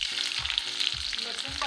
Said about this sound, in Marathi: आपलं तेल तापलंय, त्यात आपण मोहरी टाकून घेऊ।